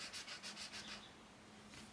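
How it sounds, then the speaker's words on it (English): An art pen or marker drags across paper in a series of about six quick scratchy strokes in the first second, then a fainter stroke near the end, close and quiet with no talking. "this one, it kind of feels like it scrapes along the page"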